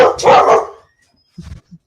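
A pet dog barks once loudly and close at a virtual real-estate meetup, followed after a pause by a couple of softer short yips.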